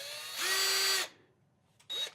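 An inexpensive two-speed power drill bores into a steel chassis, a loud whining grind lasting about half a second, then a pause and a short second burst as the bit bites again, close and without talking.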